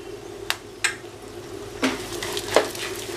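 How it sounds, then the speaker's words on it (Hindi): Poha chivda with sesame seeds, raisins, cashews and coconut slices roasting in a pan over low flame, giving a few scattered scraping stirs over a soft steady background. "लो फ्लेम पे रोस्ट कर लेंगे।"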